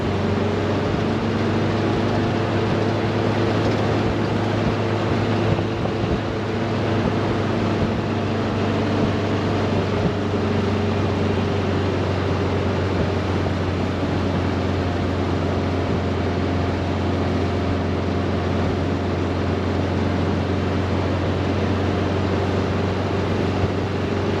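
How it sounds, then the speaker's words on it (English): A 1973 VW Thing's engine drones loudly and steadily while the car climbs a hill, a constant low rumble with road and wind noise and no voices. "Pull this hill and forth. This motor's got plenty of power."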